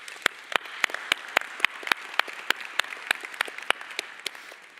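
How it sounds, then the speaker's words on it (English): Audience applause for speakers at a plenary session of a conference hall, a steady run of sharp claps that carries evenly to the end, loud and close, with no voices over it. "So please join me in a round of applause for our speakers."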